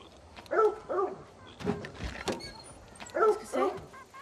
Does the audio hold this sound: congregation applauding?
no